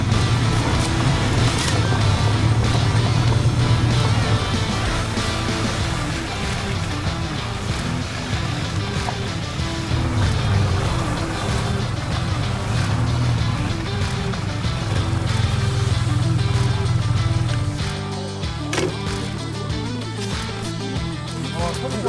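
BMW F900 GS motorcycles on stock tyres ride in a group tour on a mountain road at Gariwangsan, Korea, a steady engine and wind roar running throughout that eases slightly near the end, with a rider talking over it.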